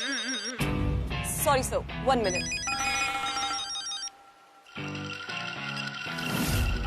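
Telephone in a Hindi sitcom scene ringing with a bright electronic ringtone in repeated bursts, loud and close, while someone speaks briefly over it; after a short pause the ringing resumes.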